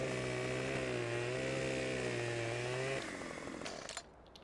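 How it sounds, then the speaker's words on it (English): A chainsaw cutting a tree stump in the video game Farming Simulator 17. The engine holds a steady buzzing drone for about three seconds, then its pitch drops and it sputters to a stop. No one speaks. "Alright, that's as good as I can get with a crouching chainsaw."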